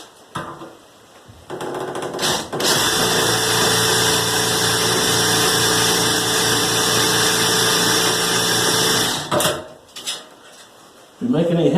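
A power drill drives self-tapping screws in a tiny house, starting with short bursts and then whirring loudly and steadily for several seconds before stopping, with brief clatter and more drill bursts near the end.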